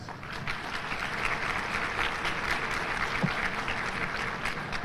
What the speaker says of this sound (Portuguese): a qual solicitamos seja recebida com uma salva de palmas